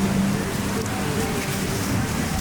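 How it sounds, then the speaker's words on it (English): Steady rain patters on a surface nearby during an outdoor obstacle race in Kuala Lumpur, a dense continuous hiss with faint murmuring in the background. "It's raining."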